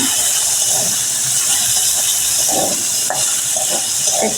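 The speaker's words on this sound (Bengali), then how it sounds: "ছোলা আর কিশমিশটা ভেজে নিচ্ছি।" Chickpeas and raisins fry together in a pan for a Bengali vegetarian dish, giving a steady loud hiss and sizzle with occasional faint stirring scrapes, with no talk.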